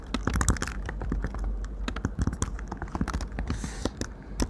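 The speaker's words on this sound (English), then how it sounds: "I will type my name" Rapid, irregular clatter of keys on a computer keyboard, close-up, with uneven bursts of clicks and taps continuing throughout over a faint background hiss.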